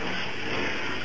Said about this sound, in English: Look at the water in the tub, how brown it'll be once I rinse them.